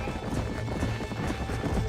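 Galloping horse hooves clip-clop steadily and close in the Western video game Red Dead Redemption while the rider is mounted, a quick continuous drumming over a dense outdoor game soundscape.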